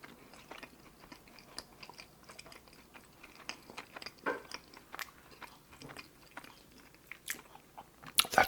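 Close, quiet bites and chewing of a Tim Hortons cruller, soft crunchy mouth sounds repeating irregularly with a louder bite near the end, no talking.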